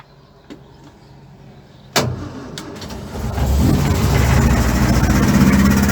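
A Land Rover Series IIa long-wheelbase engine cranks with a clunk, then catches and settles into a loud, steady, rough idle up close.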